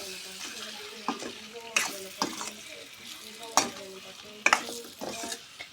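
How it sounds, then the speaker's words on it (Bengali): Boiled potatoes are stir-fried in a pan with chopped green chilies for an egg-potato curry, giving a steady sizzle broken by several sharp scrapes and knocks of a spoon against the pan, with no talk. "তারপর দিয়ে দিলাম সিদ্ধ করা আলু দিয়ে ভালোভাবে কষিয়ে নিব।"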